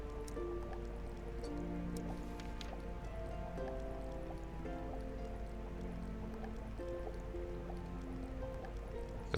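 Liquid bubbles and drips steadily in a fantasy alchemy game, The Black Grimoire: Cursebreaker, as a continuous soft gurgle with scattered drip notes that runs unbroken for the whole stretch at low level.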